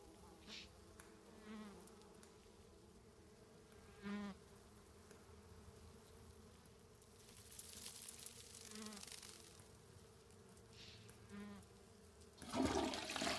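A toilet flushing inside a grimy bathroom in the video game Scarlet Hollow, heard as a faint rushing water wash amid a persistent buzzing of flies and insects, with a louder burst at the end.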